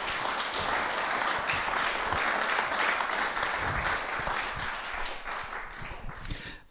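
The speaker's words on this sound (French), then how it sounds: "on peut encore vous applaudir pour ça" Audience applause fills a lecture-discussion hall on trees, dense sustained clapping from many hands that stays loud throughout and tapers slightly at the end.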